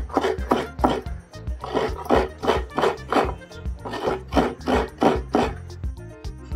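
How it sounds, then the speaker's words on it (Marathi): Fresh coconut is grated by hand for narali bhat, a close, rhythmic scraping that repeats in quick back-and-forth strokes, each burst rising and falling steadily through the clip. "आता हे खोबरं किसून घेऊया आपण"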